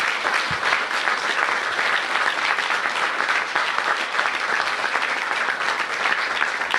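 An audience at a District of Columbia bill signing ceremony applauds the council chairman, a dense, continuous wash of many hands clapping at steady loudness throughout, with no voices standing out.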